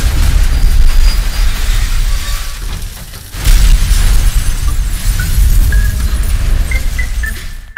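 A zombie-driven truck smashes into police station gates in a film scene, a loud sustained roar of explosion and crashing debris that dips briefly, then erupts again with rumbling and scattered metallic clatter.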